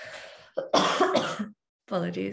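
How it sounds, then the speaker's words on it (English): A person coughs during a spoken presentation at an arts centre event, with a burst of coughing and throat noise mixed among speech, then a short pause before talking resumes. "I'm gonna cough"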